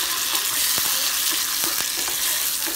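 Tomatoes hit a pan of browned chiles and fry with a steady, dense sizzle, punctuated by a few soft clicks and taps as the mixture is stirred.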